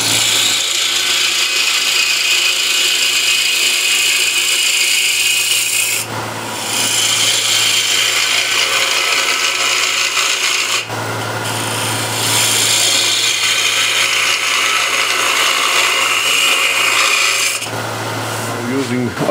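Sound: ball gouge turning a wooden bowl

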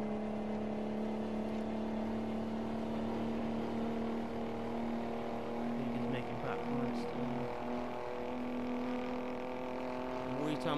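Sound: Mack truck engine and Jake brake in American Truck Simulator video game

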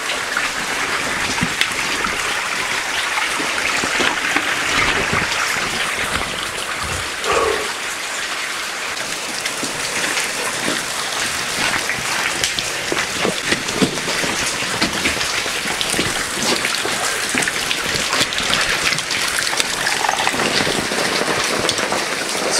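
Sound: heavy rain at a mine adit

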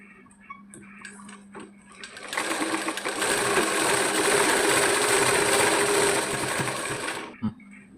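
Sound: sewing machine stitching a child's petticoat top

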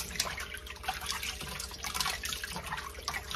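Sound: water running while washing chitterlings in cold water

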